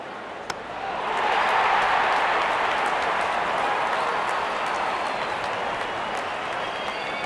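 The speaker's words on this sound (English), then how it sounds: "There's such a wonderful crowd in to watch their favorite players." A large stadium crowd applauds and cheers in a cricket video game, SA vs AUS. The sound swells after a second into a dense, steady roar that holds to the end.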